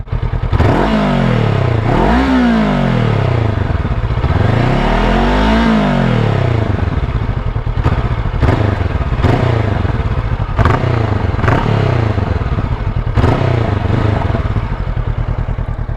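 A Honda NX500 motorcycle with its standard exhaust revs repeatedly, rising and falling in pitch with several sharp throttle blips, recorded close up from inside a crash helmet, with steady loud engine rumble throughout.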